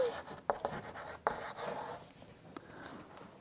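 Chalk or marker strokes on a classroom board during an English grammar lesson, a few short scraping marks standing out near the start, then a softer rubbing scrawl, fairly faint against room noise with no talking.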